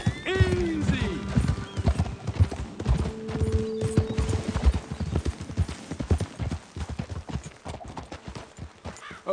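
Horse hooves clip-clop in a steady rhythm in the video game Red Dead Redemption 2, with a whinny early on and some voices over the trotting.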